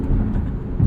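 A 2022 Mazda MX-30 Premium Plus FWD electric car accelerating at full throttle, heard from inside as a steady low rumble of road and motor noise with no speech.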